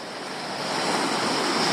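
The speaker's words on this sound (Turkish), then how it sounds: "dere geliyor ve denizle buluşuyor abi" A cold forest stream flows into the sea among breaking waves, making a loud, continuous rushing roar that swells slightly and then holds steady, with no voices.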